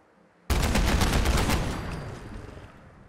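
The Mark 22 heavy weapon from a Fallout 4 mod fires a sharp, loud burst of rapid shots that rattles for about a second, then decays into a fading rumbling tail.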